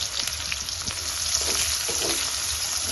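Chopped green chili, tomato and garlic half-frying in a pan, a loud continuous sizzle with light stirring movement, no talking.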